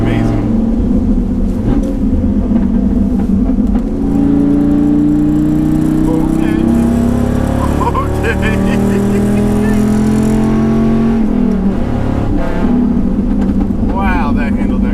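A Dodge Viper truck's engine revs and pulls hard while driving, a loud close V10 drone rising and falling through the gears, with people talking over it.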